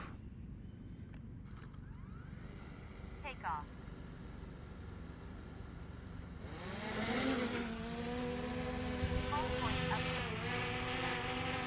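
A DJI Mini 3 drone takes off outdoors on a sunny day in Croydon. After a few seconds of quiet ambience, its rotors spin up into a loud, steady whining buzz that holds until the end.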